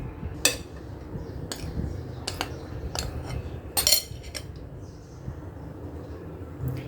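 A spoon or whisk clinks against a bowl as cake batter is stirred in one direction, giving sharp taps at irregular intervals over a soft room hum.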